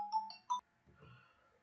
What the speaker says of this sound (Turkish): telefon geldi